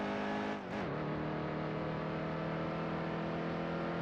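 A race truck in the video game NASCAR Heat 2 accelerates with a loud, sustained engine whine that dips briefly at a gear shift, then keeps climbing steadily.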